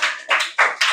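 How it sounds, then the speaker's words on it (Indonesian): Applause from a classroom of students, a few short bursts of clapping close by, with no talk over it. "Ya, applause for Dimas."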